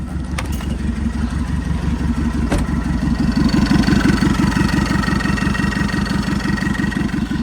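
Isuzu 4JJ1 diesel engine idling after an EGR cooler delete, a steady close, loud low clatter with an even rhythmic pulse and a faint click near the start.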